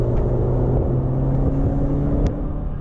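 An MG F VVC sports car with a K-series engine and standard exhaust roars steadily, a low droning engine note holding close and loud throughout with a brief sharper burst near the end.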